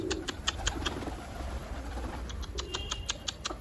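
Pigeons coo softly in short repeated calls while pecking at feed, with a light background bustle of wings and shuffling; no talk.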